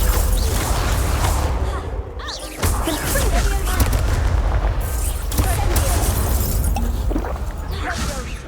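Hogwarts Legacy Confringo spell blasts fill the scene with loud, dense booms, crashes and shattering bursts during combat, with voices shouting amid the chaos.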